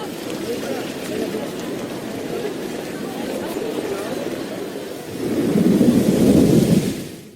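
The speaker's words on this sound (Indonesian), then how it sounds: "Di tengah derasnya hujan pada malam hari" Heavy rain pours at night as a steady, dense hiss that swells louder near the end, with a voice faintly present.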